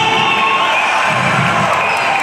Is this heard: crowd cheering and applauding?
yes